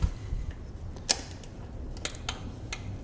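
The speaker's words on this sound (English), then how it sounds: "A small ratchet." A small ratchet turns a 14mm bolt on the rear brake of a Honda CB500X motorcycle, giving a few faint, sparse clicks close by in an otherwise quiet garage.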